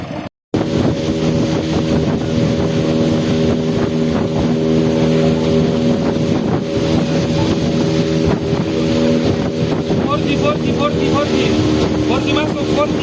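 A traditional wooden boat from Misool, Raja Ampat, fitted with an outboard motor, drones loudly and steadily throughout at close range, with wind buffeting the microphone and some faint talk.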